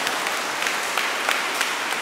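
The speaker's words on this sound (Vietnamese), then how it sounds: "cho một tràng pháo tay nữa." A church congregation at a first communion Mass gives dense, steady applause, a continuous even patter of many hands throughout.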